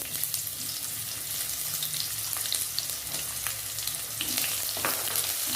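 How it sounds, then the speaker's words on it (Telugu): Onions frying in a pan sizzle softly and continuously, broken by occasional clicks and scrapes of stirring. The frying is for a Rayalaseema uggani bajji breakfast of puffed rice. No voices are heard. "ఆనియన్ వేసుకొని బాగా ఫ్రై చేసుకోవాలి"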